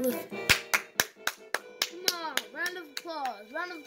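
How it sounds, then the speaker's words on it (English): A few people clap hands, a dozen or so sharp, loud claps in an uneven rhythm, mixed with bright electronic melodic sounds from a Super Mario Bros. 3 game and voices talking over them. "Round of applause for Mario"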